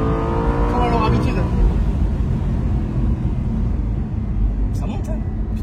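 Aston Martin V8 Roadster convertible driven with the top down, its V8 engine revving and pulling hard with a loud, continuous roar, while occupants talk over the noise.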